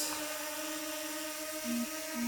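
A DJI Mini 2 drone hovers and climbs, giving a steady high-pitched propeller whine with a buzzing tonal hum that briefly shifts pitch as it rises, moderately loud with no voices.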